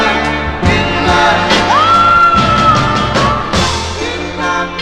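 A 1960s soul record spinning on a vinyl 45 fills the room with close, loud vocals and full band accompaniment, a sustained sung note rising above the mix.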